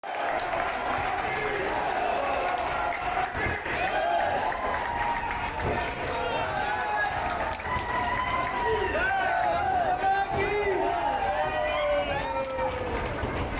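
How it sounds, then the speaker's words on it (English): Police officers cheer and clap as children depart a station on a train, a dense, continuous wash of applause and crowd noise with voices mixed in throughout. "this short video that was taken of the police just cheering the children on and clapping"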